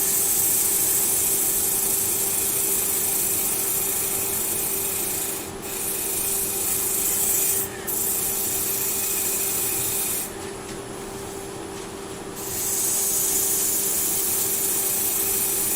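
Rippled sycamore wood on a lathe is sanded, a loud continuous rushing rub with a steady hum from the machine, broken by a few brief pauses where the abrasive lifts off.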